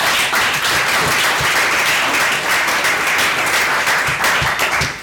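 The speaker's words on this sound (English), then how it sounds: "So let's have a big round of applause for Ben," Loud, dense applause from a live audience welcoming a panel of speakers at an edtech event in East London, sustained and even, close and full throughout before tapering at the end.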